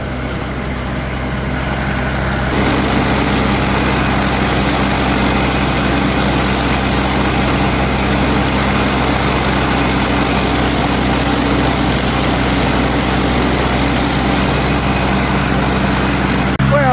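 A Farmall Cub tractor with a 10-horsepower engine runs a mower through wet, thick grass. The engine gives a loud, steady, close drone that jumps up after a couple of seconds and then holds constant.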